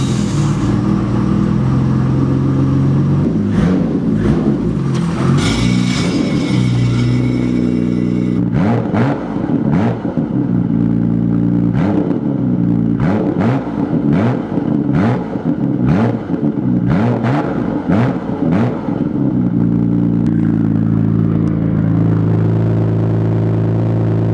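A Nissan Skyline R32 with a straight pipe exhaust revs loudly and repeatedly, sharp throttle blips rising over a rumbling idle, close by and alone, with no one talking.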